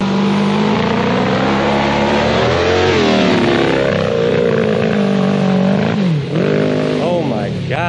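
Dirt bike engine revving up and down nearby, its pitch rising and falling in repeated sweeps, with people talking over it.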